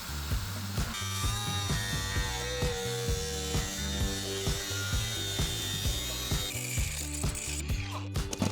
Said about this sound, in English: start drilling out all the spot weld just so I can try and remove the metal layer by layer